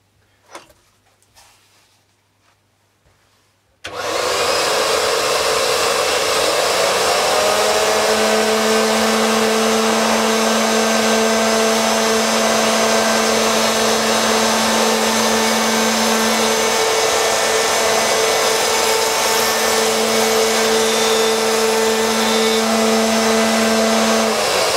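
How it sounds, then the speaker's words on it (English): A router mounted in a Mast-R-Lift II table cuts wood at a 6 mm depth: after a few quiet seconds of small handling noises the motor starts with a loud whine and runs as a steady, close, high-pitched roar to the end. "Now that cutting depth is 6 mm, and that should take care of our tear out."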